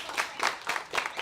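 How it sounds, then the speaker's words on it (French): An audience applauds a performance with a trained animal, a brief patter of clapping in quick bursts at moderate distance. "Je pense qu'on peut l'applaudir bien fort."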